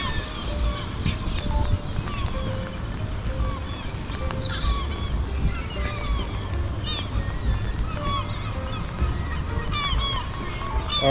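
A crowd of geese on a rainy street honks continuously, with many overlapping calls sounding close and loud over a rumbling background.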